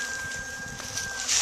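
Honey bees buzz in a dense, steady drone at close range while the top of a hive is opened for inspection, with one bee's whine standing out briefly.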